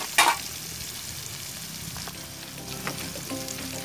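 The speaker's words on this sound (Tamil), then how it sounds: "மஞ்சள் தக்காளி வெங்காயம்லாம் நல்லா வதங்கிட்டு" Tomatoes and onions sautéing with turmeric in a pan, a soft continuous sizzle with light stirring scrapes and a sharp clatter near the start.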